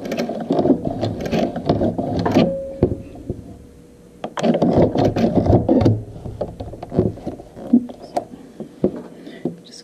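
A sewing machine works over thick quilt seams in uneven bursts of whirring and knocking, pausing briefly midway before resuming, with handling clunks throughout.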